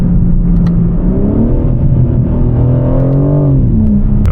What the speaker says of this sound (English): Let me hit a quick downshift one more time.